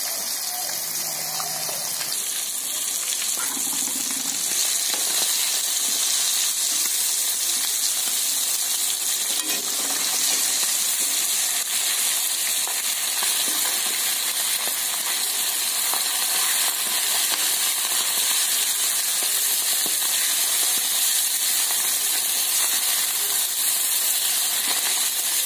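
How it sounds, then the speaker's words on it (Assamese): Fish fries in hot oil with salt added, producing a continuous, dense sizzle and crackle at an even loudness from start to finish, with no talking. "মই সদায় মাছ ভাজোঁতে তেলত আগে নিমখখিনি দি লওঁ"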